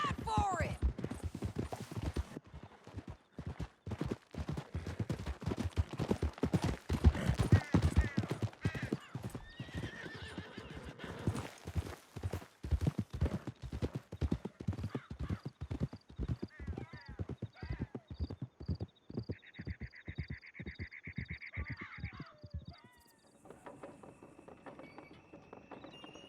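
A horse gallops in Red Dead Redemption 2, rapid rhythmic hoofbeats with neighs and whinnies close up, mixed with game dialogue and effects before the hooves thin out toward the end.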